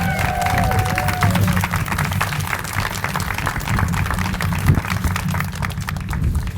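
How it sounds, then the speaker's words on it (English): An audience at an Oak View neighborhood grant event applauds city Public Works staff, with moderate clapping and crowd noise over a low steady rumble, lasting throughout. "Can you please help me give them a big round of applause?"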